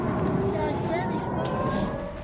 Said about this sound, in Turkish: İsrail'de gecenin sessizliğini yine sirenler bozdu.